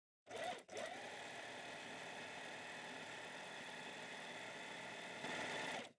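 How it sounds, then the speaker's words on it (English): A sewing machine runs steadily, stitching a straight line about 5 mm from a fabric edge for a rolled hem, with a brief pause near the start before the motor hums on continuously. "using a straight stitch, we stitch a line about"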